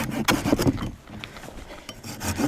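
Hand saw cutting through bough branches in short bursts of rasping strokes, close and fairly loud, separated by brief pauses.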